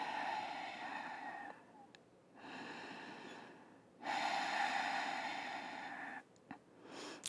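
Slow, deep breathing during a vinyasa yoga sequence, long soft inhales and exhales close to the microphone, with a sharp nasal sniff between breaths and no speech.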